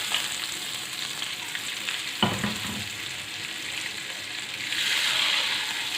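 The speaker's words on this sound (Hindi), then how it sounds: "अब ये तड़का हम इस दाल में लगा देंगे।" Hot oil tempering hits chana dal with a sudden loud sizzle, then a steady frying crackle and hiss continues, rising slightly near the end.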